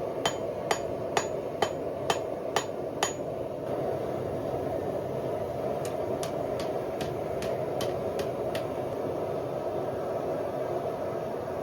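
Hammer strikes on a leaf spring being thinned for a spear socket at a forge, a run of about six sharp metallic blows, a pause, then a second quicker series, all over steady broadband roar, likely the forge blower.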